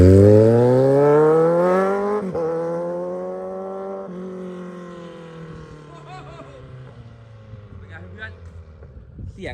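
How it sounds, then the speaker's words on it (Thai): A Kawasaki Z1000 motorcycle exhaust revs high and then slowly winds down, its deep exhaust note falling in pitch, with faint voices appearing near the end. "ท่อนี่เสียงโหดมาก"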